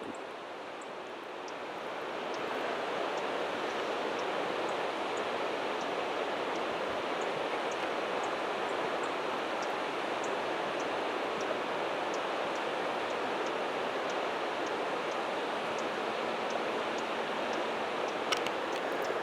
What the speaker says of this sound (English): We're close to one of the little waterfalls.